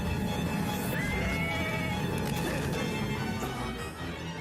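A frightened horse whinnies sharply amid loud, dense battle noise as evil spirits close in, with hoofbeats and crashing clatter beneath the cry.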